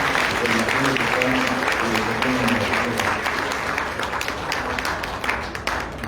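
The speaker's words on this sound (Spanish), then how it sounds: "les pido por favor que les pidamos con un gran aplauso" An audience at an education conference applauds a speaker with steady, dense clapping that fills the whole stretch. A voice speaks faintly underneath.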